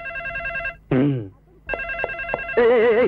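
A landline phone rings in a repeating electronic trill, close and clear, with a few voices speaking in short bursts between and over the rings.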